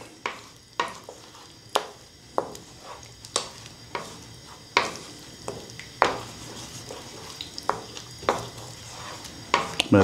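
Potato gnocchi with Calabrian bomba sauce cook in a pan over a low flame, a gentle sizzle running underneath repeated clacks and scrapes of stirring against the pan, close and steady.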